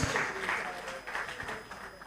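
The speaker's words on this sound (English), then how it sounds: "Please can I call for yet another applause for the chief host of this event" Audience applause at an annual conference and general assembly of a West African public accounts association, a dense burst of clapping filling the whole moment at moderate loudness.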